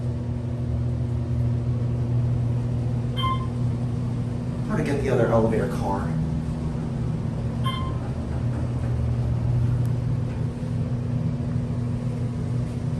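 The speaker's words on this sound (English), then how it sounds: "That fan is very, very, very loud" A steady, loud fan drone with a low hum fills an old Otis traction elevator car at a mall department store throughout, while a person speaks briefly midway.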